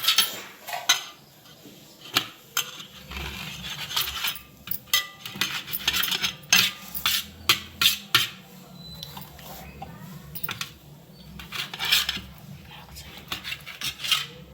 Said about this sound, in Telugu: చిన్న ముక్కలుగా ఇలా కట్ చేయాలి